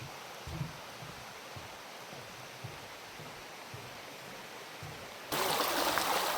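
A valley stream flows beneath a ginkgo tree path, a soft steady wash of running water with faint low thuds of footsteps, then the water grows suddenly louder and brighter near the end.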